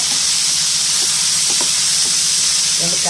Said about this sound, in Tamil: இதை வந்து போட்டு நல்லா வதக்கணும்.